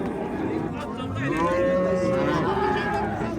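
A cow moos at a busy livestock market, one long drawn-out loud call rising and holding near the listener, with crowd murmur and talk around it.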